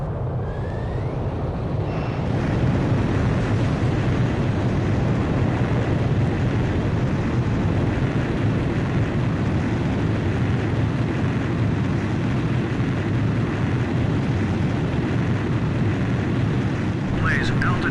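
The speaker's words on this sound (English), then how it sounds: "Check catapults. Raise the barriers. Blaze, you are cleared for takeoff." A fighter jet fired off an aircraft carrier catapult in the video game Ace Combat 5, a loud steady engine roar swelling after a brief build and holding strong throughout, with radio voices talking over it.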